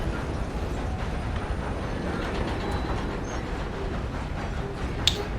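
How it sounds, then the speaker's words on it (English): A train in the video game Red Dead Redemption II rumbles steadily throughout, a continuous rolling rail noise with a brief sharp click near the end. "Should probably wait for the train to stop."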